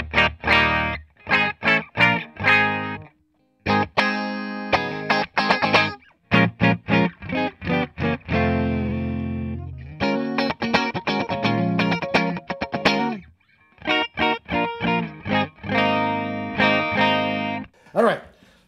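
A Custom Shop 1960 reissue electric guitar played dry straight into the rig, with bright, spiky pickup tone and punchy strummed chords and picked notes in bursts, loud and close with no talking.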